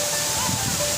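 The Abhi Neel waterfall gives off a steady, dense rushing roar, continuous and fairly loud, with no break over the brief moment.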